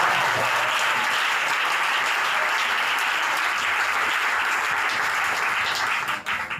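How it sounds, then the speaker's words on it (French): A large audience applauds loudly and steadily at an international church convention, a dense wash of clapping that fades slightly near the end. "Acclamons-le très fort."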